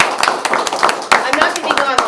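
A round of applause at a township legislative meeting, many hands clapping in a dense, steady patter for about two seconds, with voices mixed in.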